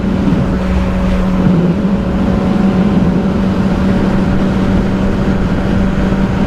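A Yamaha R6 sport motorcycle drones steadily while riding, its engine tone holding fairly constant under a heavy rumble of wind, close and loud throughout with no talking.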